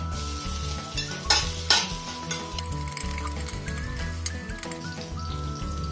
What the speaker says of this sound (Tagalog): kapag mainit na ang oil, ilagay ang bawang